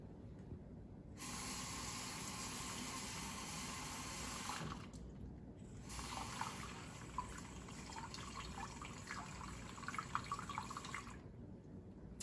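Water runs steadily from a tap into an enema bag as it fills with 750 to 1,000 milliliters, a continuous close hiss and splash that pauses briefly in the middle and stops near the end.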